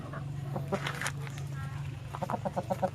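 A Brahma hen clucks nearby in short, soft bursts, with a run of quicker clucks toward the end over a low background hum.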